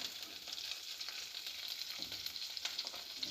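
Chopped onion and cauliflower sautéing in a pan make a faint, bright, continuous crackle with scattered small pops throughout.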